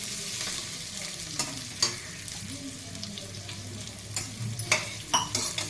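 Onions fry in a pan for moong dal pulusu and are stirred, with a steady low sizzle and occasional clinks and scrapes of the spoon. No talk is heard.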